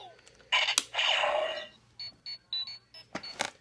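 A Power Rangers toy morpher plays bright electronic tones and chimes in quick bursts, then a series of short beeps and blips, fairly quiet and close.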